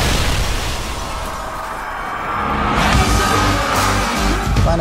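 A bomb blast in a crime-drama TV trailer: a heavy, rolling boom swells up midway and rumbles on loudly to the end over a dense low roar.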